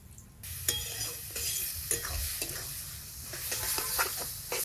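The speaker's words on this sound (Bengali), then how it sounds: "কালো জিরে রসুন একদম পোড়া পোড়া করে নিলাম এখনই শাক দেবো" Black cumin and garlic fry in a wok for data greens, with a soft, steady sizzle and scattered clicks and scrapes of stirring, quiet and close with no talk.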